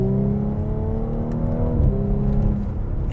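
An Audi S5 in dynamic mode, shifted down a couple of gears, roars under full throttle, its engine note climbing steadily in pitch and loudness with a brief dip midway, close and without talk.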